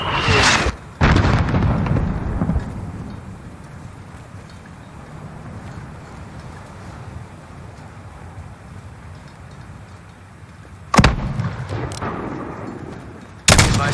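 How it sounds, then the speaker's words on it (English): Mortar blasts and gunfire in Call of Duty Modern Warfare 2019, with a few sharp loud bursts at the start and near the end and a rumbling battlefield din between them. "There's still a mortar out there."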